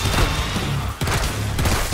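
Gunfire in the video game Killing Floor 2 comes as loud, dense bursts of rapid shots, a continuous heavy barrage broken by a brief gap, with no talk.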